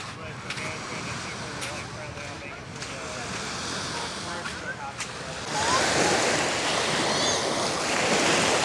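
Ocean waves wash onto a Lake Tahoe beach with steady rushing surf and wind buffeting the microphone, swelling louder midway through.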